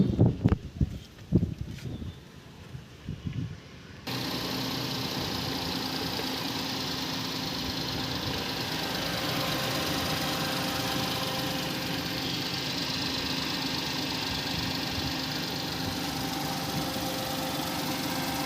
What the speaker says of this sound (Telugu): ఇంజిన్ సౌండ్ కూడా వినిపిస్తాను మీకు వినండి ఒకసారి